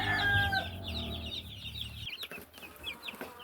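Chickens at a chicken nursery cluck and chirp in a busy chorus at close range, with a steady low hum beneath them for the first half before it drops away and the clucking continues.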